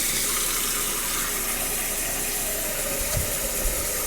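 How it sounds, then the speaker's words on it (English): Tap water runs into a pot being filled for pasta in a home kitchen, a loud, steady rushing stream with small clinks near the end and no speech. "So the lovely sous chef is filling this with water"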